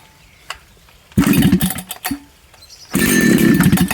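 A classic Army Husqvarna 181 chainsaw fires up after a pull, a short rough burst of engine roar that dies, then catches again and runs loud and close, with faint clicks and handling noise before.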